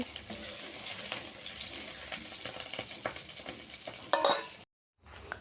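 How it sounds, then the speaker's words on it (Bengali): Vegetables fry in hot oil left in the pan after the fish, giving a loud continuous hiss and sizzle with scattered crackles. The sound breaks off abruptly near the end, then briefly returns. "ওই তেলের মধ্যেই আমি বাকি সবজিগুলোও হালকা করে ফ্রাই করব"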